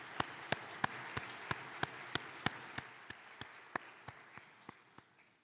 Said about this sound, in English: could I call for a round of applause for the work that Paul has done?